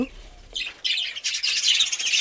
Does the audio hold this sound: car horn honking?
no